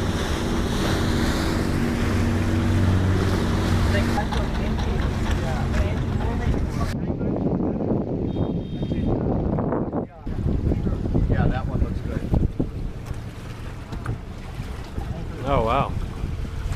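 A boat at a floating market in Vietnam, its steady engine rumble and water noise loud and close throughout, with wind buffeting the microphone and people talking over it.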